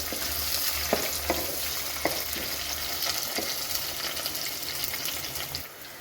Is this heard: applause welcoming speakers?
no